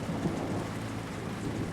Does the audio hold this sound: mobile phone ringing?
no